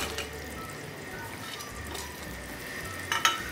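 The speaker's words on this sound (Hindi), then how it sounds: "और अच्छी तरह से मिक्स कर लूंगी।" Dry fruits being stirred into carrot and rice kheer in a pot, a soft steady scraping and bubbling texture with a brief louder clink near the end, no talking.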